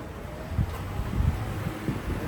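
A new evaporative air cooler blows cold air in a home with a steady, close whooshing rush and a low rumbling undertone, with slight surges in the airflow.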